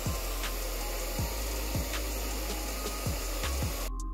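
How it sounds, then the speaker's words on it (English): A hairdryer blows steadily to dry the base layer of paint on a vintage blazer. Its constant, loud, close whoosh runs through the whole stretch, with a few low thuds recurring underneath. "I decided to use hairdryer to dry it."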